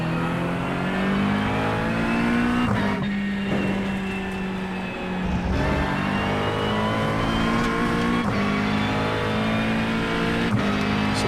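A GT3 race car in iRacing, running on cold tyres, drives continuously with a steady engine drone that rises and falls through gear shifts and revs, close and loud, with no talking.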